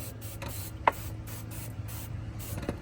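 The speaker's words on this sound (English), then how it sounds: "So we'll just use some solvent panel wipe." Solvent panel wipe sprayed onto an oily Ford Ranger engine to degrease it, short hissing bursts of spray over a low hum, with a sharp click or tap partway through and no talking.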